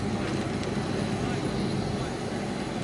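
A radio-controlled model interceptor fighter plane descends to land at an RC airshow, its engine a steady continuous drone at moderate distance, with talk going on over it.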